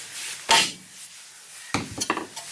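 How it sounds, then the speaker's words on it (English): A mallet strikes a piece of material to chip off pieces, with one sharp knock followed later by a cluster of clattering hits and rattling fragments, close and with no talk. "We're going to use a mallet."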